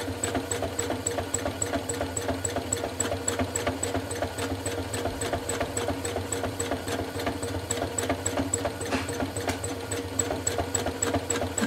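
A sewing machine free-motion quilting a basted quilt, running steadily and fast with a rapid even needle rhythm and mechanical rattle, close and continuous, while the machine skips stitches from a thread problem.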